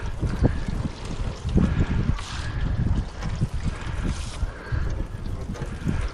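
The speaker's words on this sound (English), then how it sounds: "Look at the water just glide off." Wash water glides and runs off the graphene-matrix-coated paint of an AMG E55, a soft continuous splashing, trickling wash with low rumbling gusts close by.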